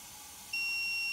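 A steam generator's float switch (Kohler K9, Model 1659) gives a steady high-pitched electronic beep that starts about halfway through and holds continuously to the end, loud over a faint hiss.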